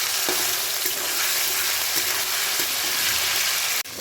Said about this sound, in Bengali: কড়াইতে সাদা তেল দিয়ে নিয়ে এই চিকেনগুলোকে ভেজে তুলে নেব।